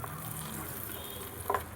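Hot tempering sizzles steadily as it is poured into chutney, a soft continuous fry with a brief louder crackle near the end.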